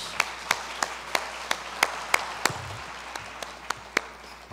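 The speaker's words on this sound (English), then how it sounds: "a big hand of applause for the panel" A few sparse, separate hand claps ring out in a quiet conference hall as the panel is applauded after a finance plenary session, about a dozen sharp claps spaced irregularly.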